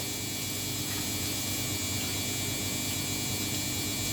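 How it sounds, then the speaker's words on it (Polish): A washing machine runs in a kitchen, giving off a steady, even drone with a faint buzzing edge. It continues unbroken from start to finish at low volume, with no voices over it. "jak się w kuchni ma pralkę, to słychać na filmikach"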